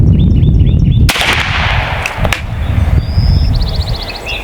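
An AEA Defender 2 air rifle fires a single loud, sharp crack outdoors, followed by a short decaying report and a faint distant impact, with birds chirping before and after the shot.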